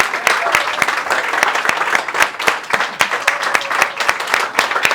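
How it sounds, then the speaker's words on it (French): An audience at a book launch applauds warmly with many distinct hand claps. The clapping is sustained and evenly dense for several seconds. "je pense que tout le monde peut t'applaudir"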